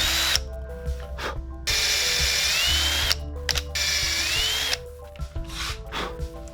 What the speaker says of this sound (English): starting with this 1/8" drill bit to create our pilot hole